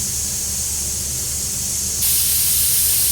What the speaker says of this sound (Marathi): तर झालेली आहे 1 शिटी.